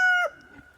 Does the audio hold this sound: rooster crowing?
yes